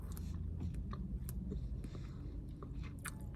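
Close, quiet chewing of soft marshmallow treats, with small wet bites and squishy mastication repeating irregularly and no talking.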